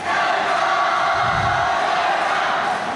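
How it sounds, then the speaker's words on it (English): Boxing fans cheering at a superlightweight title bout, a dense, steady roar of crowd noise filling the arena, loud and continuous with a brief swell in the middle. "The fans are cheering for them."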